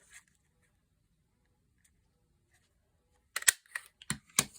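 Paper being cut for a journal pocket: a quiet pause, then a burst of several sharp, close snips and rustles in the last second.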